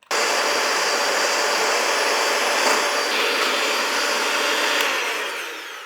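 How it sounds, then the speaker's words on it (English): An electric hand mixer whirs continuously while beating egg yolks until pale, a loud steady buzzing drone that starts abruptly and tapers slightly at the end. "So we beat the egg yolks until they become pale."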